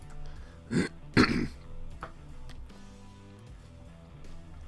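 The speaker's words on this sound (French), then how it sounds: "je me racle la gorge" Someone clears their throat twice in quick, rough bursts, close by, followed by quiet.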